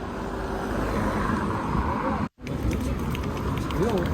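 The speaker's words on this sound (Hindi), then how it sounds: "काफ़ी ट्रैफिक है, इस तरफ भी बहुत ट्रैफिक है" Road traffic passes on a busy London street, a dense, close rumble and hiss of vehicles with a brief dropout midway, a faint rising whine near the end.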